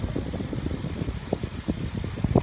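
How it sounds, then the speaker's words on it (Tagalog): An electric fan runs indoors with a steady low whir and broadband air noise, carrying faint clicks and rustling movement throughout. "Kasi naman yung electric fan nandito."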